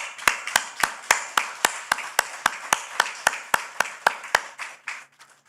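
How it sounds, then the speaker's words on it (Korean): A church congregation at a New Year's Eve service claps in unison for the new year, about eighteen loud, crisp, evenly spaced claps in a steady rhythm that slow slightly and fade at the end, with no talking. "2022년 임민년 새해를 우리에게 주신 하나님께 영광과 찬양의 박수를 올려드리십시오."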